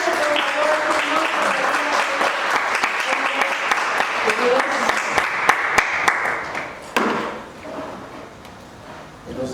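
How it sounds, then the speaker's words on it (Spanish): A church congregation gives loud applause welcoming a pastor. The clapping is dense and close, with sharp individual claps and a few voices in the room, and it fades out near the end. "Recibámoslo con un fuerte aplauso, por favor."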